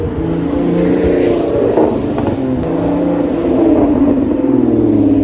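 A Lotus Emira's supercharged Toyota 3.5-liter V6, 400 horsepower, revs loud and close, its note rising and swelling across the clip with a strong low growl and no talking.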